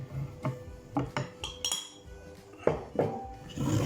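Almonds tipped into a mixing bowl during home baking, giving a series of sharp clinks and rattles against the bowl, spaced roughly every half second, close and fairly loud with no talking.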